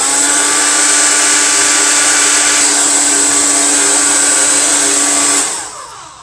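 A hair dryer blows steadily and loudly at close range to dry Halloween makeup, a continuous whooshing roar with a steady motor whine that runs for about five seconds before switching off.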